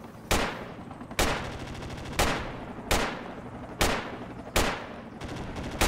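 Gunfire in the tactical shooter Project Reality, jungle combat: six or so sharp, loud reports spaced about a second apart, each with a long decaying echo trail, standing alone without talk.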